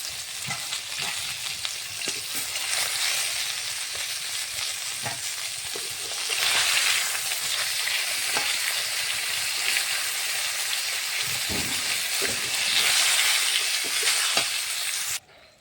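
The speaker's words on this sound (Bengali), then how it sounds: "মাছগুলো ভাজা হয়ে গেছে, আমরা এখন নামিয়ে নেব।" Rohu fish pieces fry in hot oil with a steady, loud crackling sizzle that runs throughout, punctuated by occasional spatula clicks and stirring scrapes, with no talking.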